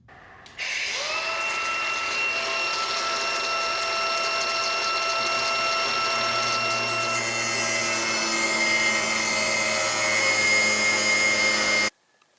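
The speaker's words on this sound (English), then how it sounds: "run down the center with an angle grinder with a cutting wheel and cut all those protruding bolts up above" An angle grinder with a cutting wheel slices through protruding bolts above their nuts on a Ram Promaster van build, a loud continuous high whine with steady tonal lines running about eleven seconds, starting abruptly and cutting off at the end.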